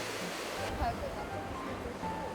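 Winter sea waves break and wash near a sandy beach, a steady broadband surf roar holding at even loudness with no voices.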